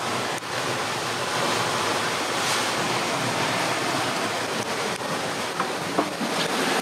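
Ocean waves wash steadily around a sailing Leopard 45 catamaran under autopilot at about 4.9 knots, a loud continuous surf roar with wind buffeting the microphone and no voices.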